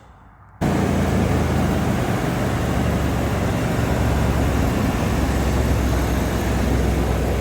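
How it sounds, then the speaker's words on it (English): A 1990 Ford F150 engine starts abruptly and then idles steadily and loudly, its broadband roar holding constant without any voices. "go ahead and start it up."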